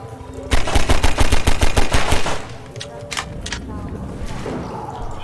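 Rapid gunfire in Half-Life 2, a fast burst of about fifteen loud, close shots lasting a couple of seconds, then a few scattered hits and softer game sounds.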